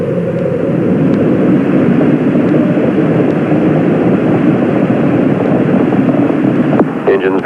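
Space Shuttle Challenger's engines roar during its 1986 launch, a dense, continuous broadband rumble that stays loud and steady, as heard through a news broadcast recording.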